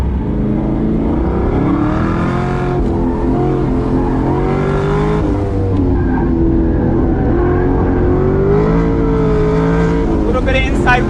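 An LS3 V8 swapped into a Mazda Miata ND roars steadily on a race track, its engine note rising and falling through gentle throttle changes with a brief tire squeal, loud and close throughout.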